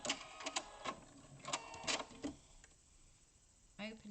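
A sewing machine stitches a quarter-inch seam on fabric for a rice-bag-style gift bag in short, quiet bursts of mechanical whirring separated by pauses, near and soft.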